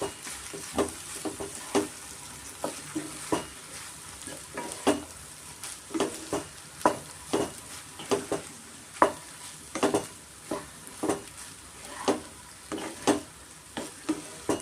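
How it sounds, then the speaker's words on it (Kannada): Cooked rice being stirred and mixed through a pepper mushroom rice mixture in a pan, with a steady run of soft scraping and clinking strokes of the spoon over a faint sizzle, one after another without pause. "ರೈಸ್ ಎಲ್ಲ ಸೇರಿಸ್ಕೊಂಡು ನಾನು ಚೆನ್ನಾಗಿ ಮಿಕ್ಸ್ ಮಾಡ್ಕೊತೀನಿ"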